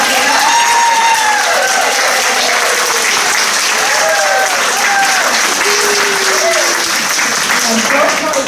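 Loud, sustained applause with cheering and whoops from a concert audience after a choir performs at a Disney event, unbroken for the whole stretch.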